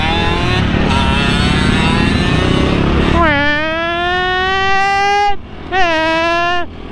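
A motocross motorcycle engine revs loudly nearby, rising in pitch as it accelerates, then drops briefly before revving high again in sharp, buzzing bursts.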